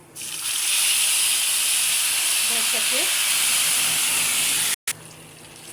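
Water poured into a pan of frying vermicelli with cinnamon and cardamom bursts into a loud, steady hiss of sizzling steam that fills the room, with a brief spoken remark near the end.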